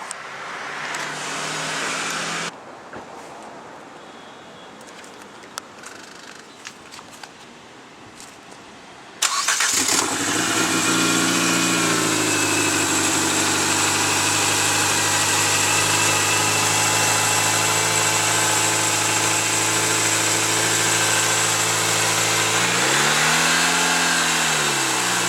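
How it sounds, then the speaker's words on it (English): A 2010 Nissan Sentra's engine cranks and catches after new spark plugs, then settles into a steady, loud idle with a brief rev near the end, after a quieter stretch of background noise. "I'm going to have my client start his car and watch his car start."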